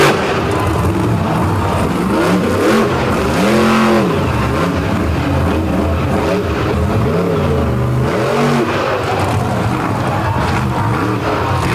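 A monster truck engine at a beach show revs hard in repeated rising and falling surges, loud and close, over a steady roar of crowd and motor noise throughout.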